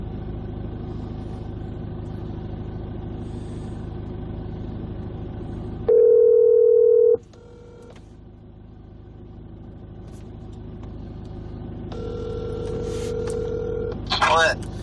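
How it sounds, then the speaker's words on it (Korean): A phone call being dialed, with a steady dial or ringback tone sounding in two separate bursts over a low engine-like hum and background chatter, as if placed from a car. "여러분 전화 한번 해보겠습니다"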